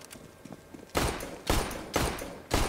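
Shotgun gunfire in the video game CS:GO: four heavy, evenly spaced blasts, each with a short decaying tail, loud over a quiet background.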